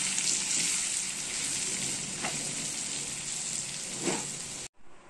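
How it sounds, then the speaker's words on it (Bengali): Diced potatoes with a little turmeric fry in hot oil in a pan, a loud continuous close-up sizzle that runs steadily before cutting off abruptly near the end. "অল্প একটু হলুদ দিয়ে আমি এখন এই আলুগুলো এর মধ্যে ওই তেলের মধ্যে দিয়ে একটু ভালো করে ভেজে নেব"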